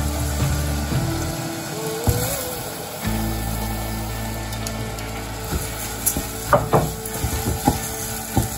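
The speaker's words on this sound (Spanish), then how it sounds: "Salteamos un poco" Rice stirred through melted blue cheese in a hot pan for a risotto with bacon gives a steady sizzle and frying hiss, with scraping spoon clinks growing more frequent toward the end.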